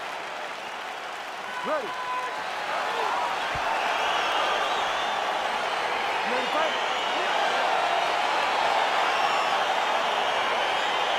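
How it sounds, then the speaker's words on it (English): A big arena crowd in a UFC video game on PS5 roars and cheers in a steady, swelling wash as the fight begins, with a brief spoken word near the start. "crowd getting excited as this fight gets underway"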